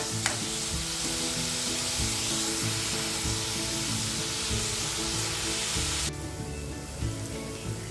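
Onions frying in a pan until golden for egg bhurji, a steady close sizzle with rhythmic scraping of a spatula as they are stirred, continuous and fairly loud before dropping to a quieter sizzle.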